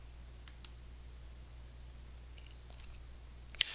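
A computer mouse clicks faintly in a quiet room with a low electrical hum: two quick clicks near the start, then a single sharper click near the end.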